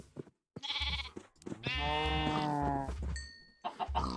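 Minecraft sheep bleat from the video game, a long wavering baa with a clear harmonic tone, loud and close, preceded by shorter bleats and followed by brief electronic game sounds.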